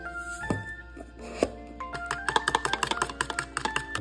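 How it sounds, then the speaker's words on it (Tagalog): Two eggs being beaten in a bowl, with quick rhythmic clicks and taps that build into a fast steady whisking patter, close and fairly loud, no talking. "Tayo muna ay magbabatiin ng dalawang itlog dito sa mangkok."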